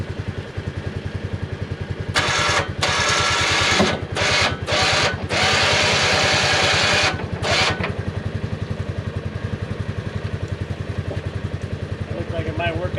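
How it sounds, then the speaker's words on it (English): A 2021 Polaris Ranger 500 idles with a steady, chugging engine rumble. Over it, the electric winch whines loudly in several bursts with short stops between them while raising a KFI Pro-Poly snow plow blade. "Let's see how this thing acts with the winch."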